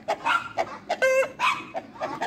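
A rooster crows close by in a farmyard, one strained harmonic call cutting through intermittent chicken clucks and barnyard noise.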